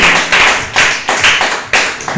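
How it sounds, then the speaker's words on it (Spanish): A church congregation claps together in a strong, loud, rhythmic beat, sharp unified bursts landing about twice per second with no talking over them. "Den un fuerte aplauso al Señor en esta tarde, aleluya."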